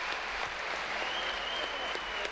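Spectators at the 2017 World Games superheavyweight men's powerlifting event applaud a lifter's failed heavy attempt, a steady dense wash of clapping that runs throughout.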